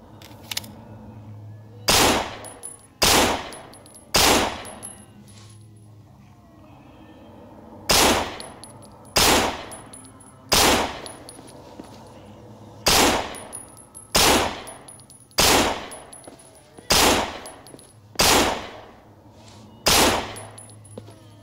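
Gunfire from an Insurgency-style M9 pistol, replacing the M92FS, in the zombie shooter No More Room in Hell: about a dozen loud, close single shots, each with a short tail, fired in uneven bursts and pauses over a low ambient hum.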